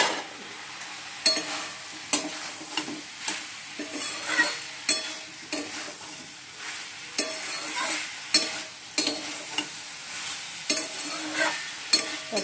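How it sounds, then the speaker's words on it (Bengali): Soybean and potato curry stir-fried in a pan, a steady sizzle with repeated scraping strokes of a spatula at a regular rhythm, close and moderately loud with no talking. "সয়াবিনটা একটু দিয়ে দিচ্ছি, যে ভালো করে এবার কষিয়ে নিচ্ছি।"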